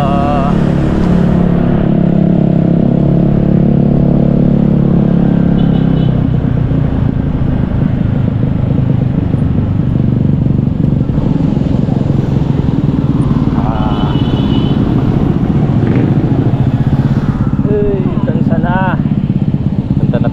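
A motorcycle engine drones continuously at close range while riding, with shifts in pitch as it accelerates and people talking over it at times.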